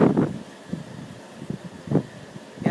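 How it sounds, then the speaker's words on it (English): Strong wind during a thunderstorm blows across the microphone in loud, irregular gusts and buffets, with rustling between the bursts. "Look at how windy it is."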